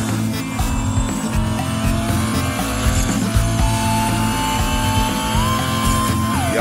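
A Porsche 911 GT1-98 race car engine roars continuously in Real Racing 3, a loud sustained drone with shifting pitch and brief tire squeal, with no voices.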